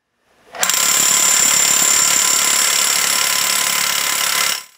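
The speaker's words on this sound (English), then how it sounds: "Drill the hole perpendicular to the concrete surface and to the required depth." A drill bores a hole in concrete for an adhesive anchor, a loud continuous high-pitched grinding whine that starts abruptly, holds steady for about four seconds, then stops.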